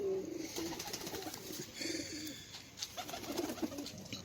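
A pet Gujjar pigeon on a rooftop loft in Sialkot coos softly in repeated low murmurs, fairly close, with faint chirps and light background noise.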